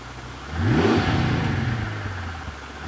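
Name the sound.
Mercedes CL65 AMG engine running after restart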